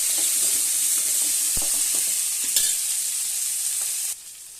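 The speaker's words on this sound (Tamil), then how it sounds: "வெண்டைக்காய் போட்டு நல்லா வதக்கிட்டு" Okra fries in oil with curry leaves, a loud steady sizzle with occasional spatula knocks while it is stirred, the hiss dropping abruptly near the end.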